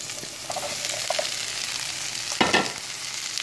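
Pork carnitas tipped into a pan of hot oil with onion and oregano, a continuous hiss of frying with a louder surge of sizzle partway through as the meat lands, no voices.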